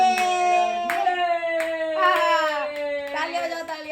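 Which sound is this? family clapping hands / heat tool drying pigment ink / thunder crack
family clapping hands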